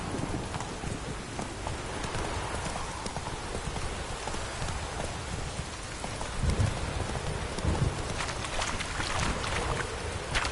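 Roach the horse trotting in The Witcher 3, hoofbeats clopping steadily beneath a dense wash of rain and ambient noise that runs the whole way through.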